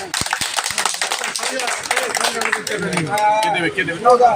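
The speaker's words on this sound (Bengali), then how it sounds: "এর জন্য একটা হাততালি" Audience clapping at a blood donation camp, a dense burst of hand claps over the full stretch mixed with a public-address voice speaking throughout.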